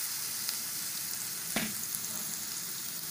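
Green chilies and asafoetida sizzle in a hot pan while Gujarati khaman is prepared, a steady frying hiss with one sharper crackling burst partway through. No one speaks.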